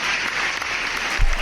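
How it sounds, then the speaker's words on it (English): A podcast audience gives a round of applause, steady and dense clapping throughout, with a brief louder burst near the end. "Let's get another round of applause."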